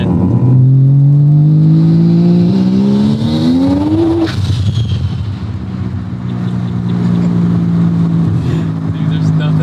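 Turbocharged Mazda RX7 rotary engines revving hard up close, a loud buzzing note climbing in pitch then dropping with a burst, followed by a steady idle-like drone.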